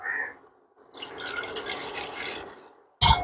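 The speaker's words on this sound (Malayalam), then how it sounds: "കുറച്ച് വെള്ളം ഈ ഒരു പാത്രത്തിലേക്ക് നമ്മൾ ഒഴിക്കുകയാണ്" Water is poured into a vessel in a short, splashy stream after a few brief drips, ending with a sharp final splash; close and clear.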